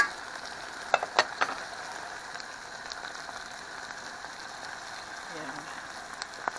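Cumin and coriander frying in a pan, a quiet steady sizzle with a few sharper crackles near the start, no talking.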